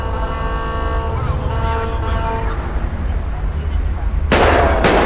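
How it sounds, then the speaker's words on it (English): Gunfire in GTA V with the LSPDFR police mod. A steady engine drone with a tonal siren-like hum leads into two sudden, loud, sharp bursts of shots in the final second. "Oh! Shots fired!"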